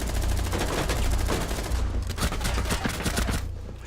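Rapid bursts of gunfire in the video game Rainbow Six Siege, a dense loud rattle of repeated shots running continuously through the moment with no clear gaps.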